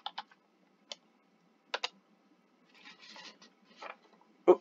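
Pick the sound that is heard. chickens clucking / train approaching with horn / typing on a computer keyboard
typing on a computer keyboard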